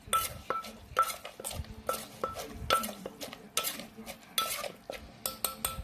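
Bamboo shoot salad with mint and herbs is stirred and tossed in a bowl, a steady rhythmic scrape and clink of utensil against dish repeating roughly every half second, close and fairly quiet.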